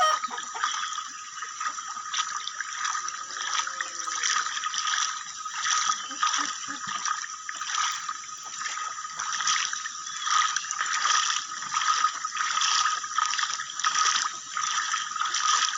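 Floodwater sloshes and splashes steadily as someone wades along a flooded, slippery village road after the Noa Dihing river overflowed near Dirak, a continuous watery churn with faint voices underneath.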